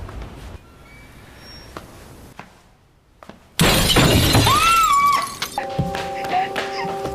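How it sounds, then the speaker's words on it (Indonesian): A bedroom window's glass shatters suddenly after a quiet stretch, a loud, bright crash followed by scattering fragments and a rising wail-like tone. "kaca jendela kamar mereka pun pecah"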